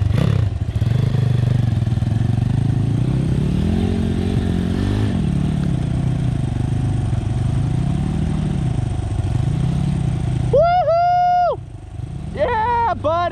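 Apollo RFZ dirt bike engine laboring up an enduro trail on bald tires, with a steady close drone that rises and falls with the throttle, then faint rising whines near the end, under a voice talking.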